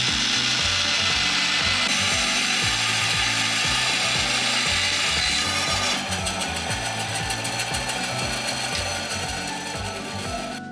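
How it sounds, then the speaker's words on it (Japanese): A power saw test-cuts scrap wood with a loud, continuous rasping grind and a rhythmic mechanical rattle throughout. "適当な木材で試し切りします"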